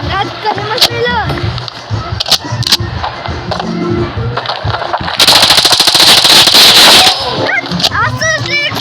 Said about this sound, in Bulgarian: Аз се стрелях с помпа.